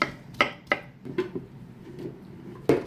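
A knife chops filling ingredients for cookies on a board: a handful of sharp, separate thuds come at uneven intervals, close and fairly quiet, with no voices.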